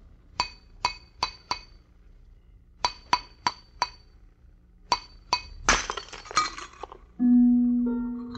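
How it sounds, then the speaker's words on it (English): A glass vessel breaking as a radio drama sound effect: a series of sharp, bright glass clinks and taps in quick groups, then a loud crash with scattering shards, followed by a sustained low tone. "The glass you just heard broken was not ordinary glass."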